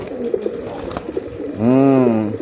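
A pigeon kept for giring display training gives one loud, rounded coo near the end, rising out of faint background sounds; the bird sounds close by.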